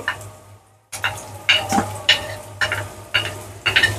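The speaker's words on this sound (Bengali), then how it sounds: "পেঁয়াজ আর রসুনটা আগে ভেজে নেব।" Onion, garlic and three dry chillies fry in a pan for a chepa shutki dish with pumpkin leaves. A spoon stirs in repeated rhythmic scraping strokes over a faint sizzle, close up, with no talking.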